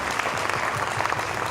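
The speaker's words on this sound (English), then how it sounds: "Please give him a big round of applause." Audience at an annual community awards gala applauds a congressman, a dense, loud and continuous round of clapping from a large crowd with no voices on top.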